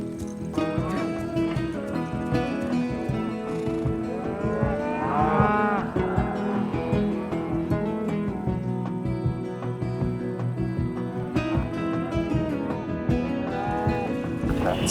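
A cattle herd mooing during a cattle drive, repeated bellowing calls from several animals near and far over a steady bustle of hooves and movement, continuing throughout.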